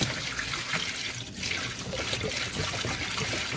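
Water pours from the spout of a Thetford 345 Porta Potti into a sink, a steady close splashing trickle that continues without a break.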